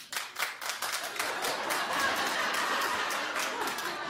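A television talk-show studio audience claps and chuckles in a dense, steady burst that swells quickly and holds at an even level, with scattered laughter mixed into the clapping.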